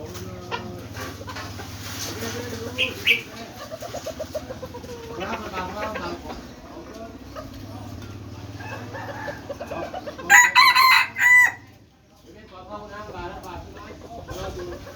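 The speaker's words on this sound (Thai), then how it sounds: "เอาไก่ใหม่มาเปิดครับ" Young roosters cluck and crow in short bursts, close by, while someone talks steadily over them; a loud crow rises near the end before a brief quiet.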